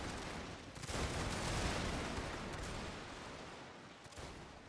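Massed musket volleys from a Shogun 2 battle, with American Marines and skirmishers trading fire against Prussian lines, rolling as a dense, continuous crackle of overlapping shots with no clear gaps between them.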